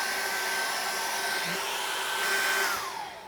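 A hair dryer blows steadily over an acrylic landscape painting, a close, even whirring hum with a whine that drops in pitch near the end as it is moved or switched down.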